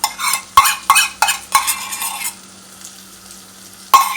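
Tomato paste frying and being stirred in a pan for tomato couscous pasta, with a steady sizzle broken by several sharp scrapes and knocks of a utensil against the pan up close, then a quieter sizzle and one final knock.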